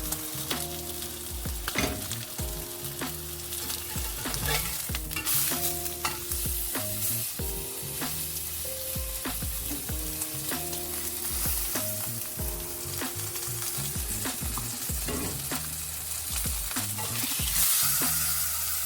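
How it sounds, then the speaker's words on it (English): A steak sears in a hot pan, giving a steady broadband sizzle that runs for the whole stretch. Tonal background music plays underneath it the entire time. "You want that sizzle."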